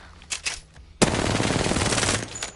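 A gun fires full-auto in Apex Legends: after a couple of faint taps, a loud, close, sustained burst of rapid shots rattles on for over a second before cutting off, with no talking.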